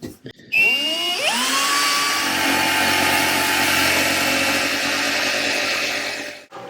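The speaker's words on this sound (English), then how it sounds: "drill the corners so that I can join them up with the jigsaw" A power drill and jigsaw cutting a car dashboard panel whine up and run steadily at close range, a loud continuous buzzing cut with a short pause at the start.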